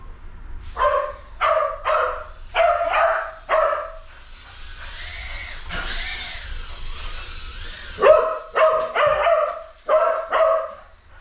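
A dog barks repeatedly in quick bursts, pauses while a whining or howling sound rises, then resumes a rapid run of loud, close barks.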